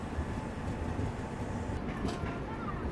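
The Ahmedabad–Mumbai double decker express pulls into Mumbai Central with a low, steady rumble of rolling rail cars, heard from inside the train, and a voice speaks faintly.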